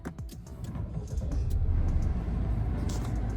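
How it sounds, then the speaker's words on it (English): A Mahindra Scorpio N Z8L car engine cranks and catches, settling into a low, steady idle rumble heard up close. "Now let me turn on the car again."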